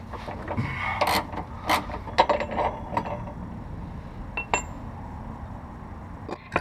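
A wrench loosens the front suspension bolts during a Whiteline Positive Traction kit install, giving a run of irregular metallic clicks, ratcheting taps and clinks at close range with short pauses and no talking.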